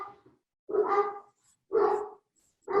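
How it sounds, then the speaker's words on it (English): Dogs barking indoors, three loud separate barks spaced about a second apart, close and clear against otherwise quiet surroundings. "Noticing that distraction of sound from my dogs."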